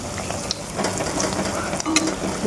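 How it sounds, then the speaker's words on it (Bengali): Malpua batter frying in hot oil in a home kitchen, a steady crackling sizzle with small pops and spatters, fairly close and continuous throughout with no talking. "এই মালপোয়া ভাজছি এখানে"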